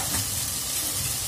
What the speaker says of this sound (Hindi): और इस सारे मसाले को भून लेंगे